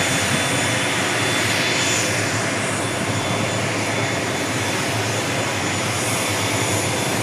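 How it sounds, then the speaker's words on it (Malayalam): Loud, continuous roar of an airplane engine close by at Salem airport, steady and unbroken throughout with no voices. "എന്താ വിമാനമാണ് കിടക്കുന്നത്"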